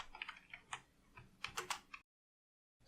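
Fast, close clicking of a computer keyboard as code is typed, in quick uneven bursts of keystrokes for about two seconds before it stops into silence.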